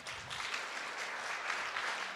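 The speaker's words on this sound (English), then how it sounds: "Big applaud for Julian." A conference audience applauds with dense, steady clapping that holds at an even level for a couple of seconds, with no talking over it.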